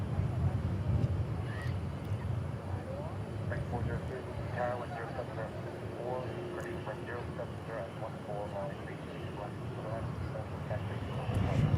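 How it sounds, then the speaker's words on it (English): Embraer E-175 jet from Columbia, Missouri going around at DFW International Airport at night, a steady broad engine roar held throughout with faint speech-like murmur in the background. "E-175 from Columbia, Missouri with the go-around"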